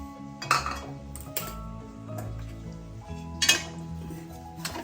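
A spoon scrapes and clinks against a pan as rava kesari is stirred with sugar, producing a few sharp metallic knocks amid quieter scraping and soft rustling.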